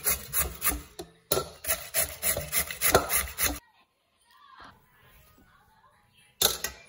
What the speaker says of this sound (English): Grate the carrots.